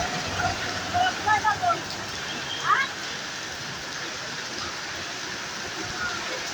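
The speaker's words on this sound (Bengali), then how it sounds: "বৃষ্টির মধ্যে আমরা দাঁড়িয়ে আছি" Heavy rain pours steadily on the street at a junction in Satkhira town, a dense even wash of falling water, with a few brief voices and sounds breaking through early on.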